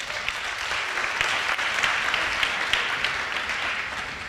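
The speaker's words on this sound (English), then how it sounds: "could we have another round of applause," A conference audience claps steadily, a dense wash of applause that holds at an even level for several seconds without voices.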